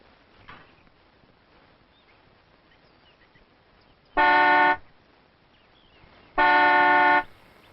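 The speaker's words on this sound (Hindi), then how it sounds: "रहमान सर ये गाड़ी इतनी आवाज क्यों कर रही है?" A car horn sounds two loud, sustained honks, each lasting under a second and a couple of seconds apart. Between the honks the background is quiet and low.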